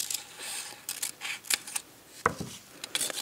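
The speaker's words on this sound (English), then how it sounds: "Take a small circle that's been prepared and cut it in half like this." Scissors cut a small prepared paper circle in half for doll clothes, giving several quick, close, crisp snips and soft rustles with short pauses between.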